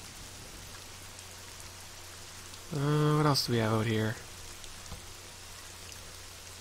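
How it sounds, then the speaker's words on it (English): Gentle rain in the Nancy Drew mystery game falls as a soft, steady hiss with faint patter on surfaces. It continues unbroken under a brief stretch of talk in the middle. "I like the sound of the rain. It's kind of a peaceful rain, don't you think?"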